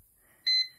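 A single short electronic beep from a PM2.5 air quality monitor alarm sounds once, clear and fairly quiet, against near silence.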